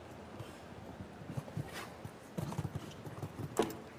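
A show jumping horse gallops across an arena at an international team event, its hoofbeats a faint, irregular rhythmic thudding heard from a distance.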